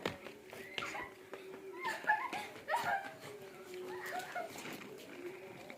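A dog at a house gives short yips, whimpers and a few barks, fairly faint and scattered, with people talking nearby.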